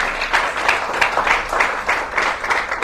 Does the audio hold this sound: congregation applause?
yes